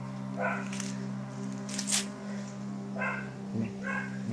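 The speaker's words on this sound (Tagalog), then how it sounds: "Makahul pa rin yung pinakawalan na aso." Dog barking in short bursts at a distance, several separate barks spaced apart over a steady low background hum.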